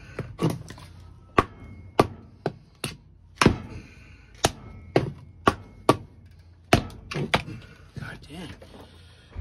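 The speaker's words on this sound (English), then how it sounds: "I think we gotta get the bigger hammer." A bigger hammer strikes a Buck 119 knife in a hard-use test, giving a series of sharp, loud, irregularly spaced metallic blows close by.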